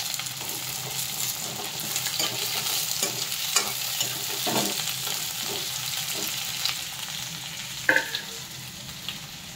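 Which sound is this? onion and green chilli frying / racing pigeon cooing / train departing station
onion and green chilli frying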